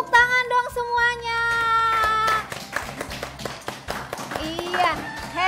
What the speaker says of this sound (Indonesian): Betul, tepuk tangan dong semuanya.